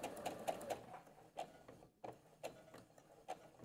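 A sewing machine stitches quilt fabric along a quarter-inch seam for a flying geese patchwork block, giving quiet, close mechanical ticking in short runs that slow and pause briefly.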